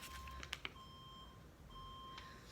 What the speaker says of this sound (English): I apologize for the beeping outside of my apartment.